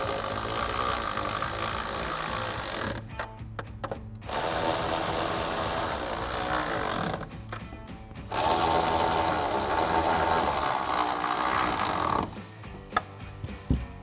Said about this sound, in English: And we'll tighten everything down with our 10mm socket.